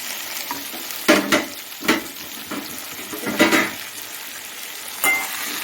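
Coconut pieces sauté in a pan for an eel fish curry masala: a steady low sizzle broken by several sharp scraping stirs of the spoon against the pan, close and fairly loud, with no voices.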